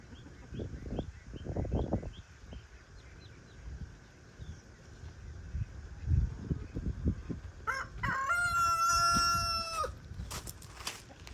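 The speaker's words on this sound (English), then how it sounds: "all the chickens are out and Reuben and that little rooster are fighting" Chickens clucking and scratching around a farmhouse yard, with a rooster giving one loud, clear crow partway through over the low clucks and rustling.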